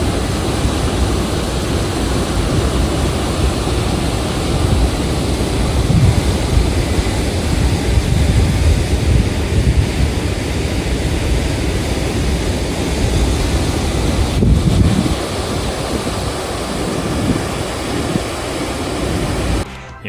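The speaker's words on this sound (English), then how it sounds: "as you can hear, the water was very loud" Loud rushing waterfall in Cape York early in the season, heavy water falling in a constant broadband roar that stays steady and close throughout, with no voices.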